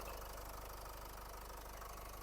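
A Renault Koleos 2015 with a 2.0 dCi diesel engine idles steadily, a continuous even rumble at constant loudness with no voices over it.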